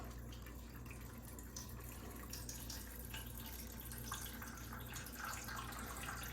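Tap water pours continuously into a Waterdrop filter pitcher, a steady close splashing and dribbling stream that runs unbroken for several seconds over a low background hum.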